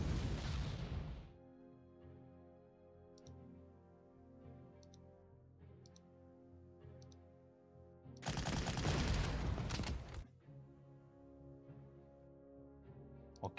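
Gunfire from a unit attack in the Panzer Corps strategy game: one loud crackling burst at the start and another a few seconds later, with soft background music between them.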